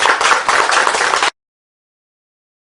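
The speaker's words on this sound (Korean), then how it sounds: "큰 박수 부탁드립니다" An audience at a Korean internet-community year-end event gives a short, loud burst of applause, a dense clatter of many hands that cuts off abruptly after about a second, followed by silence.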